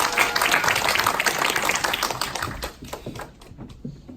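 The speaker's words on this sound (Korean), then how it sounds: "남진식 사장님 모실 때 큰 박수 부탁드립니다" Applause from an event audience, dense clapping at first that thins and fades toward the end.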